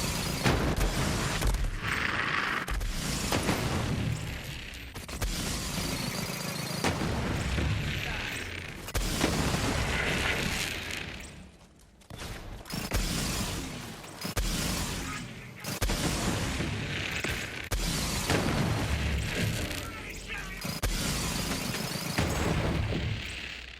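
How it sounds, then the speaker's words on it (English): Radiation explosions from Borderlands 3, played as Zane on True Vault Hunter mode, burst out in loud, repeated booming waves about every few seconds, mixed with gunfire-like crackle and game effects. "if you kill a couple of the smaller guys right beside him with that radiation explosion"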